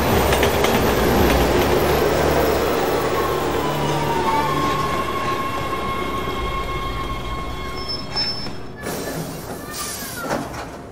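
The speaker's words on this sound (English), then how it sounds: "Look out! Train!" A train rushes past in the video game Resident Evil 6, a loud, sustained rumble with rattling wheels and drawn-out metallic squeals that fades slightly before a few sharp clanks near the end.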